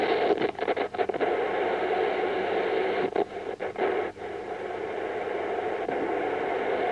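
Steady hiss and static from a Palstar MW550 radio receiver tuned to long wave in semi-daylight, continuous and fairly loud, with brief dropouts and crackles breaking the noise floor.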